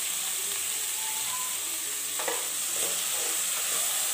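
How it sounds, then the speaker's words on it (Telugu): Brinjal slices, salted and dusted with turmeric, fry in oil with a steady close sizzle and a few soft stirring scrapes, no one talking. "వంకాయలు ఇప్పుడు ఇవి 2 ఆయిల్లో మనం వేగించుకున్నాం"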